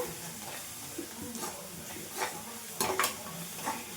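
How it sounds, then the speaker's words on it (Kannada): Masala powder from a noodle seasoning packet being stir-fried in a pan for sweet corn noodles, with soft sizzling and scraping stirs that swell at intervals, up close and moderately quiet. "ಹಾಗೆ ಒಳಗಡೆ ಬರುವಂಥ ಮಸಾಲ ಪುಡಿನ ಇದ್ದೀನಿ ಹಾಕಿ ಒಂದ್ಸರಿ ಫ್ರೈ ಮಾಡ್ಕೊಂಡ್ಬಿಡೋಣ"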